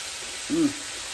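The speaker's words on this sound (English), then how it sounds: "That's my dog whining, y'all, if y'all hear something weird in the background." A dog's single short, high whine rises briefly from the background over a constant sizzling hiss of shrimp and broccoli frying.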